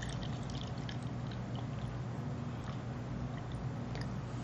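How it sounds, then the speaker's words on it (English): Liquid poured from one container into another during a child's conservation task, a faint, steady trickling splash running throughout without speech. "I'm going to pour the rocket fuel into a container for you."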